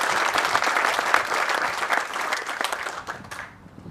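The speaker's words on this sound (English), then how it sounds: "So if I could get a round of applause for all these participants." Audience at a Marine Corps change of command ceremony at Marine Corps Air Station Miramar, California, gives the participants a dense round of applause that holds for a few seconds, then quickly fades away.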